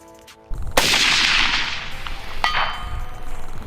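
Rifle shots from a PWS MK116 Mod 2 sound as sharp cracks with a ringing clang from steel targets about 400 yards off, followed by rolling echo and another distant ping.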